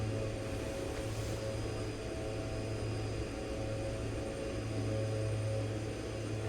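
A single-engine aircraft in the flight simulator X-Plane runs at full power during a water takeoff at Lake Tahoe, giving a steady, loud, droning hum with a constant tone and no talking.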